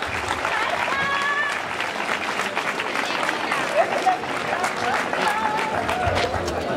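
A crowd applauds the winners at a village road race's awards ceremony, steady dense clapping filling the whole stretch, fairly loud, with voices and cheers mixed in among the claps.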